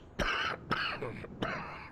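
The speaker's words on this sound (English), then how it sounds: "Better get to the doctor, get that cough checked out." Three harsh coughs from a video game character, evenly spaced about half a second apart, each trailing into a raspy breathy tail, close and fairly loud.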